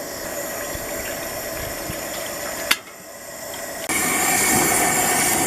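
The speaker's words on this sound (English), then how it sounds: "our water's starting to boil" Water heating toward a boil in a pot on a camping stove, with a steady broad hiss and roar that dips briefly after a sharp click, then returns louder and continues, close and without talk.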